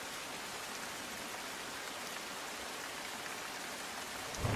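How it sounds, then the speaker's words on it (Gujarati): Heavy rain pours down steadily across Amreli in Gujarat, a dense, even hiss of drops hitting surfaces without letup, with a brief louder thump at the very end. "અમરેલી શહેરની સાથે ગ્રામ્યમાં ધોધમાર વરસાદ"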